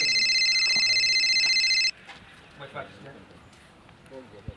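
A telephone rings loudly with a continuous electronic trill that cuts off abruptly partway through, leaving quieter room noise and faint voices.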